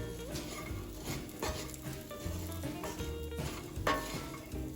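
Candied pecans being stirred in butter and sugar in a pan over medium-low heat, a steady soft sizzle with a few scrapes and clinks of the utensil, with no talking.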